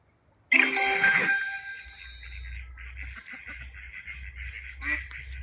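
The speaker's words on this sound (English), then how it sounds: "The ducks are making noise now." A family of mallard ducks quacks outdoors, starting with a loud burst of calls, then settling into repeated softer quacks over low background rumble.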